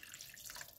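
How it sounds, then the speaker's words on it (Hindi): Water trickles and splashes steadily into a pressure cooker pot of half-cooked aloo gosht, a soft continuous pour heard up close at low volume. "इसमें हम अब ऐड करेंगे जी पानी"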